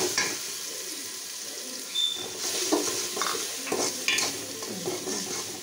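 Whole spices fry in a pan with a continuous close sizzle while a utensil scrapes and stirs in irregular bursts, with occasional clinks against the metal.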